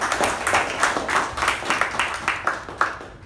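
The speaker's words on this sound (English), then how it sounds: "So can we have a huge round of applause for her?" A small meeting audience at a Toastmasters club applauds briefly, a few seconds of moderate clapping that comes in soft rhythmic swells, fairly close, with no talk over it.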